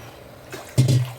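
Water poured into a pan holding rice flour, with a soft short splash and pour starting partway through and running to the end; it is close and moderately loud, with no talking.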